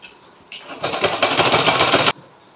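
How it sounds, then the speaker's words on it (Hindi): A sewing machine stitching the sides of a small dress, running in a short burst of fast rattling mechanical whirring that stops abruptly, preceded by a faint motor start. "इन दोनों को इस तरह से उल्टा रखते हुए दोनों साइड से मैं सिलाई करने जा रही हूँ"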